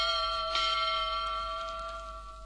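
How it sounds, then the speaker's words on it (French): A small bell rings once as a page-turn signal for a children's storybook, a clear bright tone that slowly fades away with nothing else heard. "vous entendrez la petite cloche de Tuf Tuf sonner"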